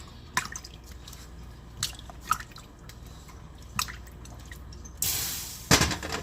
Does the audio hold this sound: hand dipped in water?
yes